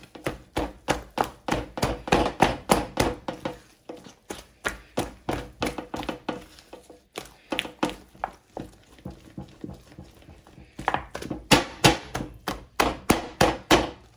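Oreo puff-puff dough being beaten and worked by hand in a bowl, a steady run of close, sharp slapping thumps repeating in quick rhythm, with a brief pause midway before the beating picks up again.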